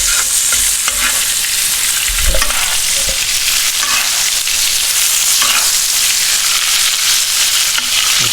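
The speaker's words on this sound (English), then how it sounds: "Alright, now we're going to butter baste our steaks" New York strip steaks sizzle loudly in a hot pan as butter and garlic are spooned over them, a steady close frying hiss broken by occasional scrapes and clinks of the spoon against the pan.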